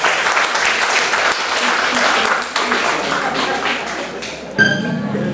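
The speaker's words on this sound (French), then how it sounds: "Applaudissez Joël, s'il vous plaît, merci." Audience at a magic show applauding a volunteer named Joël, a steady burst of clapping lasting several seconds before a voice starts talking.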